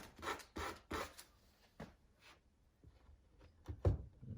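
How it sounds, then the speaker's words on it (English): Several short hand-sanding passes of sandpaper over small wooden pieces for a model police box, close and fairly quiet, coming as a handful of brisk rasping strokes with brief pauses between them. "I'll just kind of give a couple little passes on the sandpaper"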